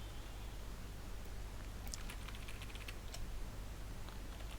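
Soft, rapid clicking of a computer keyboard as code is typed, quiet and close, arriving in short irregular bursts over a low steady hum.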